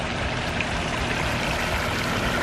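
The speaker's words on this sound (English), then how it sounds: "this is the back of the waterfalls right here" Water from a backyard pond waterfall pours and splashes in a steady, close rush, with continuous broadband flow and no voices over it.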